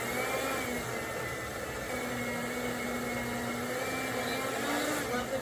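A blender whirs steadily through limes, lemons and fresh parsley, a loud continuous motor drone with a faint pitch wobble as the contents churn.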